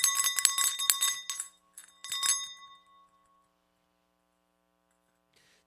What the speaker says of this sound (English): This is an ornament, not really a bell.